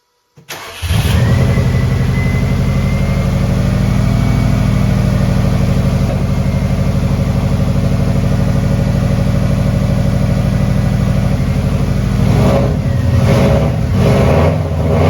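A neglected Subaru WRX STI under rebuild cranks and fires up, then settles into a loud, steady close-up idle that runs unbroken, with some uneven bumps near the end.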